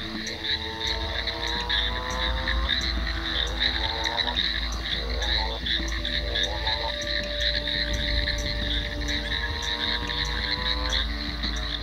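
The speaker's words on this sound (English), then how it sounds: "And frogs make a variety of noises. They don't just croak." Chorus of frogs croaking at night, dense overlapping pulsed calls and repeated rising trills, steady and moderately close, with no voices.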